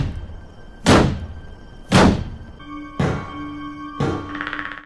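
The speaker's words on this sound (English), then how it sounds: "bangs on his shield multiple times to get the Predator's attention" A knight in medieval armor repeatedly bangs on his shield in the film Predator: Dark Ages, four loud ringing thuds about a second apart, each leaving a short metallic hum as it fades.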